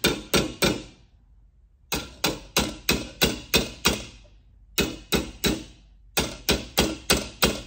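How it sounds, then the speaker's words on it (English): A hammer taps repeatedly around copper rivets on copper sheet, making sharp metallic strikes in steady bursts of four to six blows separated by brief pauses, close and loud, with no talking. "you can kind of force it by hammering around the rivets"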